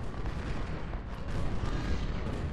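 24-pounder cannon fire in the Ultimate General: Civil War battle at Mansfield, heard as a dense, continuous barrage of rumbling booms that rolls on without a break, with no talk.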